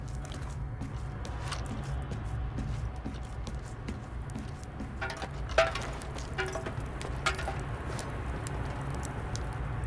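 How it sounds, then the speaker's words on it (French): A fire crackles in the video game Stalker 2, giving a steady stream of small pops and snaps over a low ambient rumble, with a few sharper cracks standing out. "C'était le bruit du feu."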